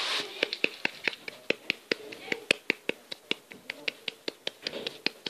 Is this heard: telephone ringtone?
no